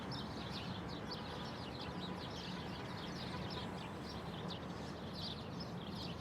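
Outdoor ambience thick with many birds calling at once, a dense steady chorus of chirps and twittering over a constant broadband background, with no voices.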